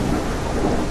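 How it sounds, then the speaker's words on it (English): Dense, loud rumbling thunder from a lightning strike in Kayak VR: Mirage fills the scene with a broad roar and rain-like hiss, heard up close throughout. "I'm gonna watch this lightning strike"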